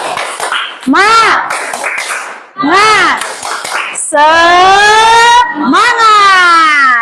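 A classroom group performs a tepuk semangat spirit clap, loud, close voices chanting in a sing-song way, with rhythmic claps between the shouted phrases.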